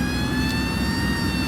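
A fire engine siren wails steadily in the city-building game Cities Skylines II as a mutual aid fire department arrives, a continuous tonal whine sitting over low engine rumble at moderate volume.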